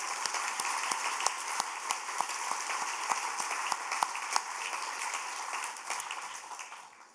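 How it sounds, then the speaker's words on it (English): Audience applause at a community writers festival event honoring an award recipient, a steady wash of many hands with a few sharper claps standing out, moderately distant and fading slightly toward the end. "Can we please give Camila a well-deserved another round of applause?"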